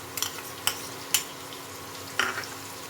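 Onion paste and potatoes frying in a pan, a soft steady sizzle broken by a few sharp scrapes and clinks of a spoon stirring.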